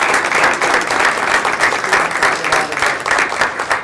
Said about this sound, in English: So I'd like to just give a round of applause.